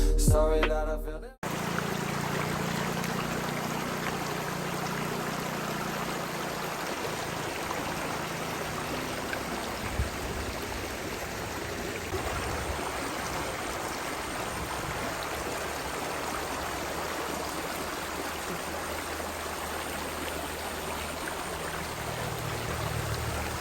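Water flowing in a stream in Malaysia, a steady broadband rush that stays unbroken and fairly loud throughout, after a brief different sound at the very start, with no talking.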